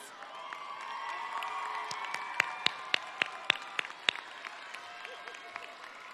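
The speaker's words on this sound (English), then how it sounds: "How about a round of applause in gratitude to your parents?" A crowd at the 2018 Fort Lauderdale High School graduation ceremony breaks into applause, a broad sustained wash of clapping with scattered distinct sharp claps and faint cheering that rises and then tapers off.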